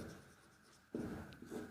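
Pen strokes scratch across paper as a maths solution is written out by hand, faint at first and then a louder close stretch of quick scribbling.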